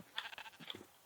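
Sheep bleating in the Minecraft video game, a few short synthetic bleats in quick succession, fairly faint and heard alone without talk.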